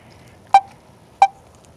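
A phone gives two short, sharp electronic beeps about two-thirds of a second apart, loud and close against a quiet background with no talking.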